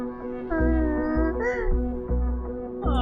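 A cat meows again and again in a video game, a few drawn-out wavering cries standing out clearly over a loud, low, pulsing musical hum.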